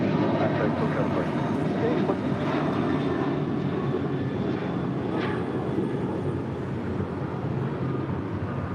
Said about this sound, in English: This is the Dreamliner coming in from Newark.